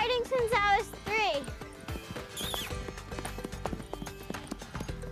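Hooves of a horse being ridden clip-clop in a steady rhythm while a whinny rises early on, with musical sounds mixed in and a voice briefly heard.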